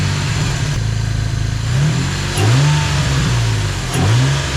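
A 2006 Infiniti G35 with its stock intake revs up from a steady, loud idle, climbing in pitch and falling back three times in close succession.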